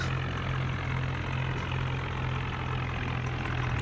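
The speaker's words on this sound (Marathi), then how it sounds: "डायरेक्ट ट्रॅक्टर घालू सरळ." A tractor engine hums steadily at close range as it pulls two trolleys, a constant low droning rumble with no pauses and no voices.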